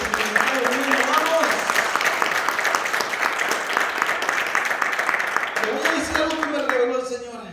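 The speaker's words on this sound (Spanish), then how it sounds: "Denle un aplauso a Dios." A church congregation breaks into loud, sustained applause at a worship service, dense clapping filling the room for several seconds before tapering off as a voice returns at the end.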